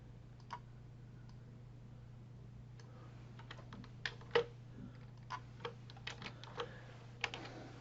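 Sparse computer keyboard keystrokes and clicks at close range, isolated taps spread unevenly over a steady low electrical hum, with a slightly firmer cluster near the middle and no talking.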